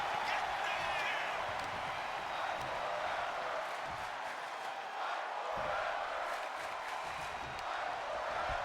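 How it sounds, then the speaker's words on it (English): Wrestling crowd chanting "fight forever" during a match, a steady dense roar of many voices filling the arena, with a commentator talking over it. "Crowd chanting, fight forever."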